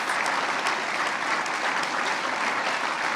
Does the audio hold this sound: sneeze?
no